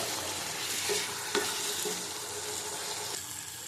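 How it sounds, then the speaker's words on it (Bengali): Potatoes are stirred and sautéed in a pan for a raw banana and potato curry, a steady close sizzle broken by a few scraping stirs of a utensil. "আলু দিয়ে আবার দু তিন মিনিট কষিয়ে নেবো ভালো করে"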